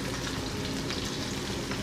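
A thin steak sizzles steadily in butter in a pan, a dense, continuous crackling hiss, close and even throughout, with no voices.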